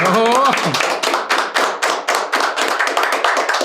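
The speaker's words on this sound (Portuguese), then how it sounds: "Uma salva de palmas" A small group claps for a guest at the close of a Brazilian podcast episode, a run of distinct, close hand claps in an uneven rhythm, with a voice speaking briefly at the start.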